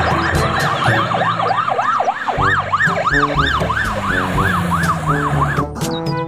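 A toy ambulance siren wails loudly and close by in a repeating rising-and-falling pattern that continues throughout, with no speech over it.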